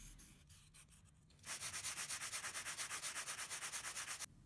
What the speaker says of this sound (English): After some sanding, I had a perfectly pristine obelisk.